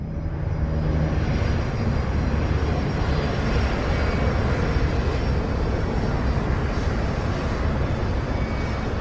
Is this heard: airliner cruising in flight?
yes